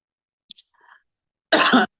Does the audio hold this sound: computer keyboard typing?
no